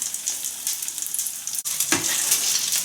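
Oyster omelette frying in oil in a pan, a steady close broadband sizzle with a brief dip midway and crackling bursts, no talking.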